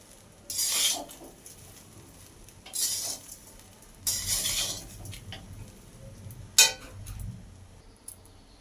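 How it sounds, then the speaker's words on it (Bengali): Fried rice with fried carrots and sugar being stirred in a pan over a low gas flame: four scraping, clattering bouts of spoon against pan, each about a second long, close by, with a soft sizzle underneath. "দিয়ে ভালো করে সব কিছু মিক্স করে নেব এবং গ্যাসের ফ্লেমটা কিন্তু অবশ্যই লোতে রাখতে হবে"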